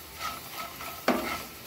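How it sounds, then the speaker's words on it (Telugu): Bitter gourd frying crisply in a pan, a steady soft sizzle broken by a few sharp scraping stirs of a spatula, close and without voices. "ఇలా క్రిస్పీగా ఫ్రై చేసుకోవాలి."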